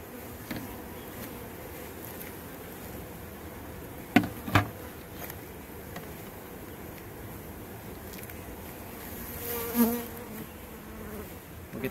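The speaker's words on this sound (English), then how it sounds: "We can already see a bee's coming up in there exploring a little bit." Honeybees buzzing around a sugar-water feeder during a package hive installation, a steady low insect drone throughout with a few brief knocks and a louder close pass near the end.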